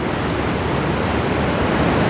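A big waterfall, split down the middle by a large boulder, thunders as a steady, loud, broadband roar of falling water that fills the whole stretch without a break.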